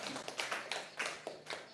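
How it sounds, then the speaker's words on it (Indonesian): Scattered, faint clapping from a small audience at a school staff working session, a handful of sharp claps at an uneven rhythm rather than full applause. "sekali lagi tepuk tangan buat Kakak Danya."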